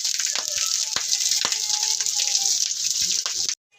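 Water pours steadily into a container or bucket outdoors on a rural farm, a close, even rushing hiss that cuts off abruptly near the end.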